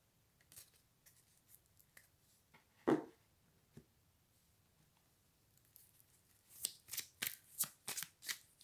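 Tarot cards handled and shuffled at close range, scattered soft flicks and rustles with one sharp snap early on, then a quick burst of riffling card flutters toward the end, no voices.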